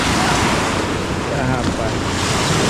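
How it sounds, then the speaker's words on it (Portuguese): Big waves at a river beach near Manaus, slapping loudly and continuously against a motorboat in a dense, churning wash. "As ondas tão grandes, ó."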